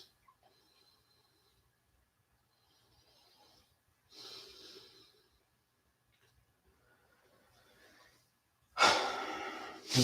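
A person breathes during a yoga standing forward bend, with soft quiet breaths early on and two louder, drawn-out exhalations near the middle and at the end, each heard alone.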